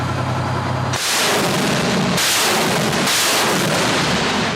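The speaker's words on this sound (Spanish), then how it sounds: "sobre las cabezas de los girasoles se desató el fuego de la artillería de cohetes" Loud, booming rocket artillery fire, with several heavy blasts roaring one after another close by, each leaving a long rushing rumble.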